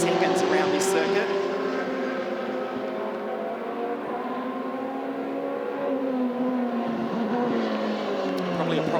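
Euroformula Open single-seater race cars scream around the Mugello circuit in Italy in a sustained high engine whine that rises and falls as they pass. A commentator talks throughout over the cars.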